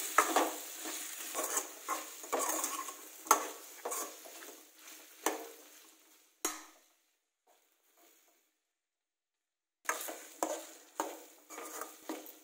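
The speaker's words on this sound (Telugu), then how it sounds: "వీటన్నింటినీ ఇలా ఆయిల్లో ఫ్రై చేసుకోవాలి." Okra being stirred in hot oil in a pan, with repeated scraping strokes over a steady sizzle, then a pause of near silence before the stirring and frying resume, close and clear with no talk.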